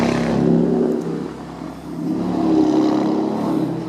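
A car engine revs loudly nearby at an outdoor meet in Pennsylvania, rising, easing off and swelling again in two long surges with no talking.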